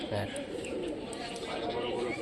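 Soft, low pigeon coos repeat faintly beneath a person talking nearby.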